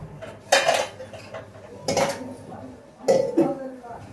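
Metal pots, pans and utensils in a home kitchen by a gas stove, set down and shifted in three separate clattering bursts with brief clanks, close by, with quiet gaps and faint voices between.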